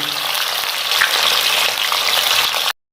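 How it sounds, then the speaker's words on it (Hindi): Chicken pieces for an Afghani chicken karahi fry in hot ghee with a steady, close sizzle and light stirring, alone and constant for nearly three seconds before cutting off abruptly. "और अब ये हम जो चिकन है ये इसके अंदर शामिल करेंगे, ये सारा इसके अंदर शामिल कर देंगे और इसे फ्राई करेंगे।"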